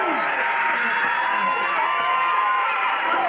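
A loud wrestling crowd at a live independent event cheers, shouts and whoops continuously, with children's high voices and scattered clapping in the dense roar.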